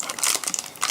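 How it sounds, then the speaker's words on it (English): Crinkly plastic packaging of magic modeling clay being opened, a short burst of close, loud crumpling and crackling. "I'm gonna open up my magic modeling clay."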